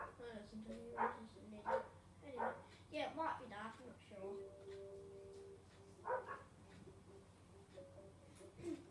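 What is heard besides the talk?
dogs barking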